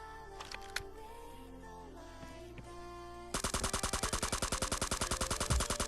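Gunfire in the mobile battle royale game Scarfall 2.0, a sudden sustained burst of rapid automatic shots firing in a fast, even rhythm, loud and close after a few seconds of quieter game ambience with scattered clicks.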